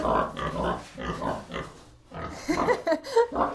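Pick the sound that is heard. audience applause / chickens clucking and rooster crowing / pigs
pigs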